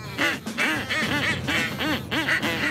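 Ducks quack over and over at a duck blind, a loud, busy chorus of overlapping nasal calls that keeps going for the whole stretch.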